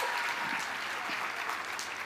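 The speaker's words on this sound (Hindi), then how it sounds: "तो रामवीर सर के लिए भी एक बार तालियां होनी चाहिए।" Crowd applause for Ramveer sir at a large welcome rally for a Vijay Rath procession in Kota: continuous, thick clapping from many hands, steady and fairly loud throughout.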